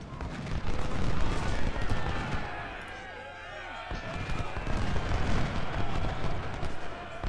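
Dense musket volleys in the Civil War strategy game Ultimate General: Civil War, a continuous crackling roar of gunfire with a brief lull partway through, loud and layered, with someone talking over it.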